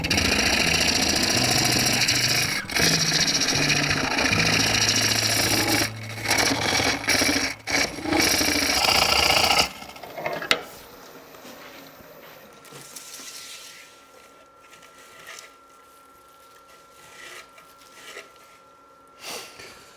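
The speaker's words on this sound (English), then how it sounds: "People don't have to watch me hollowing this for 20 minutes." A wood lathe hollows a natural edge hollow form, its loud rough grinding and scraping running for about ten seconds with bursts and gaps, then giving way to a quieter, low hum with faint rattles.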